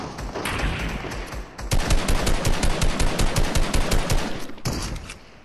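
Weapons fire in the video game Fortnite: a loud, sustained burst of rapid automatic gunfire with evenly spaced shots, after a brief softer stretch and before it trails off at the end.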